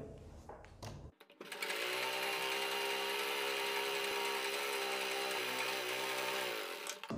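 A sewing machine stitches a double-folded fabric strip, starting after a few brief handling noises and then running in a steady, close, continuous whir for several seconds.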